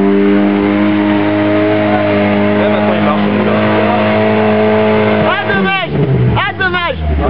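A Lada Niva engine revving steadily and loud through the whole stretch, rising in sharp pitch sweeps near the end as it strains, with people talking over it.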